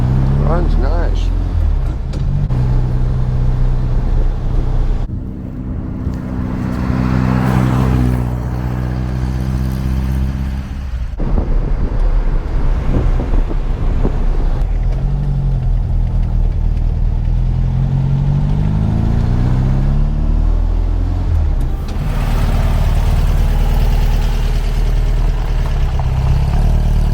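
A rebuilt 1973 VW Super Beetle engine runs steadily nearby with a low, throbbing hum and slight changes in pitch, while people talk over it.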